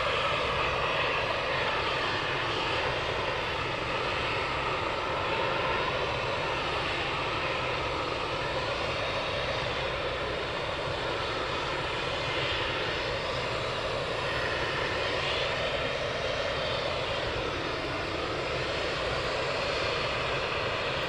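Military jet aircraft at RAF Valley, including Typhoons, hold a loud steady engine roar and whine that runs unbroken throughout, with no talk.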